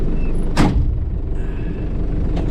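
A door slams shut on a 1984 Daihatsu Taft F50 with a single solid thump, close by, over a low engine rumble, followed by a fainter knock near the end.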